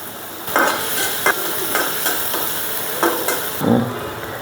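Hilsa fish paste fries lightly in oil in a pan with a steady soft sizzle, broken by several scraping stir strokes at irregular intervals, close and alone without talk.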